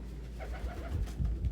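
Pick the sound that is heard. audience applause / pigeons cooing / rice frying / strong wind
pigeons cooing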